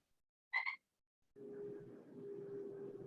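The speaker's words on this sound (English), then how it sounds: "Is that a frog? That was my frog clock." A frog-shaped novelty clock croaks the hour with one short, bright double croak, followed after a pause by a steady low hum of room noise.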